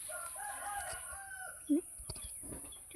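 Chickens cluck and call faintly in the background, with one brief louder squawk standing out amid soft farmyard noise.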